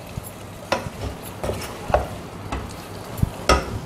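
Bitter gourd tossed with masala in a pan, stirred by a spoon in a few distinct scraping strokes, with light sizzling from frying underneath; close and fairly quiet, no talking.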